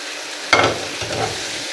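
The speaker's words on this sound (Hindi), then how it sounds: "चलो फिर आप डालेंगे इसमें भिंडियाँ।" Okra hitting a hot pan and frying, a sudden loud sizzle burst followed by scraping stir sounds and a continuing crackle, brief and close.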